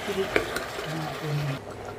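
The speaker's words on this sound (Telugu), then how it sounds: "అల్లం వెల్లుల్లి పేస్ట్ ఉంటుంది కదండి ఇందులోనే, అందుకని పచ్చివాసన పోయేంత వరకు వేపుకుందామండి." Ginger garlic paste frying and being stirred in a pan for kabuli chana curry, a soft steady sizzle with a couple of spoon scrapes near the start, close and moderately quiet.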